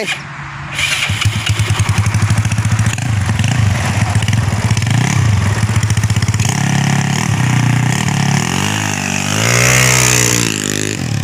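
A Yamaha Mio scooter with a 59/3 engine setup runs loud and close, revving steadily with rising and falling pitch and a strong surge of throttle near the end.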